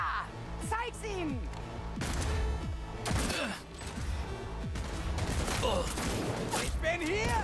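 Gunfire from Cyberpunk 2077 rings out repeatedly in loud bursts through a busy, dense game soundscape, with people talking over it throughout.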